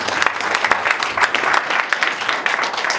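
A lecture audience bursts into brisk, loud applause, with clustered sharp claps packed densely and close for a few seconds.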